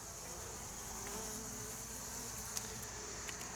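Soft, steady buzzing of honey bees humming together on brood comb, faint and continuous, with a few tiny clicks over the drone.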